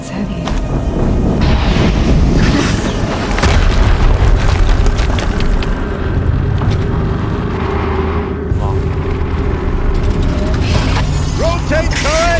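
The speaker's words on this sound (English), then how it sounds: "Explosion." Heavy explosions and mechanical clanking rumble through a battle in Horizon Zero Dawn, a dense, loud wall of booms and metallic rattling that runs without a break under a speaking voice.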